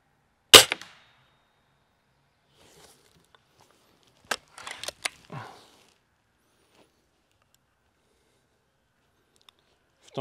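A sharp Cometa Fenix 400 air rifle shot snaps early, then a few seconds later a cluster of quick cracks and clattering knocks, with quiet gaps between.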